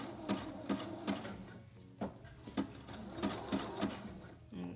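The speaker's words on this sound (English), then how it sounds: "I'm gonna go forward and back again to lock my stitch" A sewing machine stitching forward and back to lock a seam on a pillow cover, a quick run of rhythmic needle thumps in short bursts with brief pauses, close and moderately quiet.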